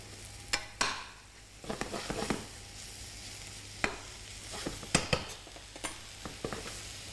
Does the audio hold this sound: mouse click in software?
no